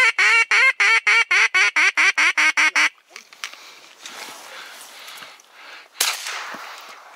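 Duck calls ring out loud and close during a duck hunt, a rapid run of about a dozen sharp quacks in a steady rhythm, followed by rustling, outdoor movement and a brief loud burst near the end.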